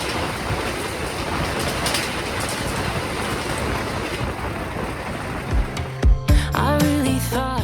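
Sawung Galih economy premium passenger train running on the Jogja–Jakarta line, a continuous rumbling roar of wheels on rails heard from inside, with clattering near the end and a few short tonal squeals.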